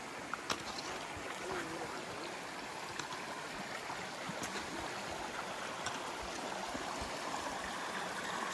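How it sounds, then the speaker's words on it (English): Cold River flowing over rocks, a steady broadband rush of water that stays constant throughout, close and moderately loud, with a few faint knocks and no clear speech. "it took us down here to the Cold River"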